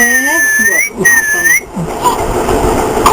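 A person whistles a few short, bright melodic phrases close by, with brief pauses between, followed by softer background noise.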